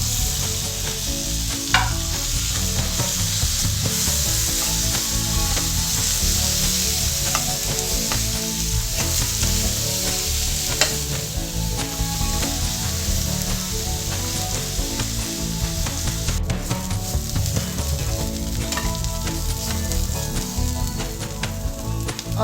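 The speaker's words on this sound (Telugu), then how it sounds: "ఉల్లిపాయ ముక్కలు ఫ్రై అయిన తర్వాత ఆనియన్ పేస్ట్ వేసుకోవాలి" Onion paste frying loudly in a pan over chopped onions, a dense, continuous sizzle with occasional scraping clicks of stirring, close and unbroken throughout.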